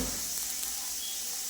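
Cabbage sizzling in very hot oil just after chili powder is added, a steady close frying hiss running evenly through the whole short moment with no talking.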